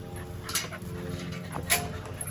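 Puppies whimpering and panting in the heat, with soft high whines and breathy panting close by over a low background hum, a few brief louder yelps standing out.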